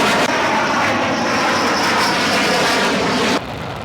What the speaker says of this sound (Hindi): 5 राफेल विमानों ने भारतीय वायु सीमा में एंट्री ली